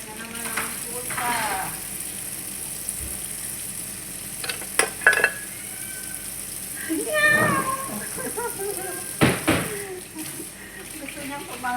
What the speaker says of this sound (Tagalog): Ayan na naman ang pusa.